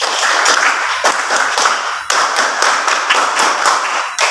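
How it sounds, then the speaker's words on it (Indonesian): An audience clapping hands together in a rhythmic classroom cheer, loud sharp claps in repeated grouped patterns, with short pauses between sets and no talking. "Tepuk tangan"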